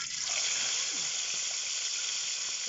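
Coconut milk bubbles and hisses steadily in a pot, a dense close rolling boil with no voices.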